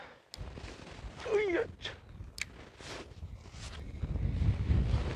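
Strong wind buffets a small fishing boat out on the water, gusting and rumbling against the microphone in uneven surges that build toward the end, while someone talks and exclaims under it.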